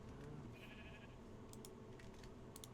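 A sheep bleats faintly in the video game Minecraft, one short call under a steady background hiss, followed by a few soft clicks.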